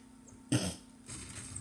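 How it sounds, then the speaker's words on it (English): A single short, harsh cough close by, followed by a softer breathy rasp, with a faint steady hum in the background, during Fortnite gameplay. "I have like a bad cough too."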